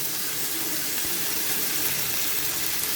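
Fish sauce poured into a pot while cooking white sotanghon, heard as a steady, close hissing sizzle of liquid hitting hot contents, continuous and even throughout.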